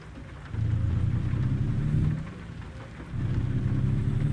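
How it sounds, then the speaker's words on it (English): Rain and rolling thunder in the American Truck Simulator driving game: a steady wash of rain with two long, deep rumbles swelling and easing, one after the other. "the rain's always interesting in this game"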